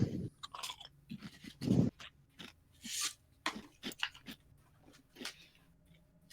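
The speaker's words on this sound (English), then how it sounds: "Can you hear me chewing crisps?" Someone munches crisps right next to the mic, a run of sharp, crackly crunches with quiet gaps between bites.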